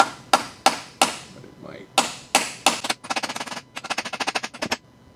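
A hammer drives a Torx bit into a stuck bolt on a 1986 Porsche 944 Turbo during bell housing and clutch work. Sharp, ringing metallic blows come first as spaced single strikes, then as rapid bursts, with a few brief spoken words.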